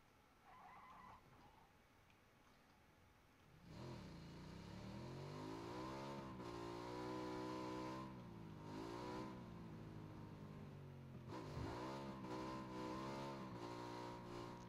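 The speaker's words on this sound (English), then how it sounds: "Riding a motorcycle in this game is definitely one of those true skills" A motorcycle engine in a video game revs repeatedly, pitch climbing and dropping through gear-like sweeps, fairly loud and continuous with no talk.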